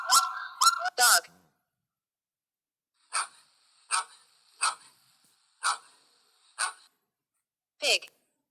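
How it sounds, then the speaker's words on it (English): A dog barks in a run of six short, sharp barks at fairly even intervals, preceded by a brief spoken word and a couple of other quick sounds at the start. "Dog."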